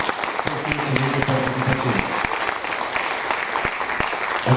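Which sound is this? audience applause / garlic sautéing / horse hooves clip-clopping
audience applause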